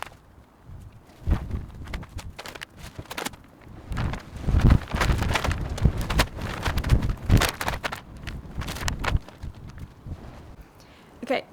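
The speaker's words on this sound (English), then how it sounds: "It's very windy now." Gusty wind buffets the microphone outdoors in a garden during repotting and mulching, with rumbling surges and bursts that rise and fall.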